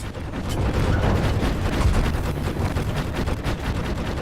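In the video game The Last Caretaker, a powerless door fails to open, giving off a continuous rough, rattling mechanical stutter of rapid noisy pulses that stays loud and even throughout.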